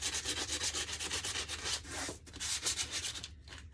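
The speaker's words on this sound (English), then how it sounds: "So just give it a good old rubbing down with your sandpaper. And I'm using 80 grit sandpaper." Wood rubbed down with 80 grit sandpaper for a monogram lemon tag, a loud continuous scratchy back-and-forth sanding in quick regular strokes with a brief pause near the end, no talking.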